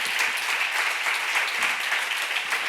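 Church congregation applauding during a sermon, a dense, steady burst of clapping from many hands that fills the room evenly from start to finish with no break.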